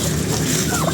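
A flock of chickens clucks and chatters continuously up close after storm damage to their coops, with a rooster-like call near the end.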